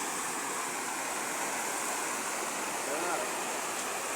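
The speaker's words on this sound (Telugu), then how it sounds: "ఇది వాగు అంటారు, వాగు." A small stream flowing steadily in an even, broad rushing wash, continuous and fairly close, with no distinct splashes standing out.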